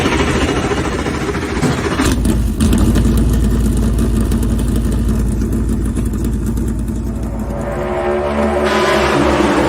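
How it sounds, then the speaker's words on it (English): Race car engines fire up for a start at Martinsville, a loud, continuous roar of many motors that fills the whole stretch and shifts in pitch toward the end. "gentlemen, start your engine!"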